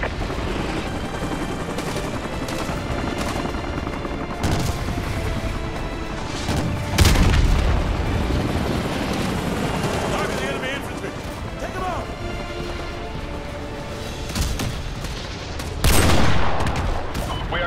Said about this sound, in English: The evac site is still taking heavy fire